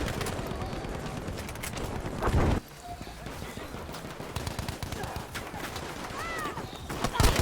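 Breda PG 1935 gunfire in Battlefield 5, rapid bursts of shots with a brief break midway, joined by other battlefield noise and a faint voice.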